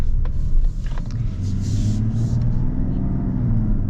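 A Mazda CX-90 Turbo S with an inline-six engine accelerating, heard as a steady low rumble with rising engine tones, close and continuous, with no talking.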